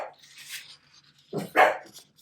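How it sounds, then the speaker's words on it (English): Dogs barking in a home, a couple of short sharp barks near the end after a quieter yip, fairly close and alone without talk. "Now doggies are barking."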